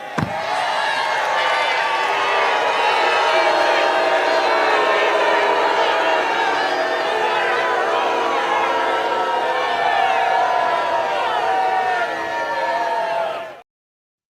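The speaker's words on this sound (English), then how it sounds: "It's Lindsey Graham being booed off of the stage" A large crowd at a Trump event in Pickens, South Carolina boos Lindsey Graham, a loud continuous roar of jeers and shouting that holds steady throughout before cutting off abruptly at the end.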